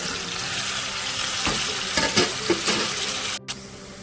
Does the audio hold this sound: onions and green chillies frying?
yes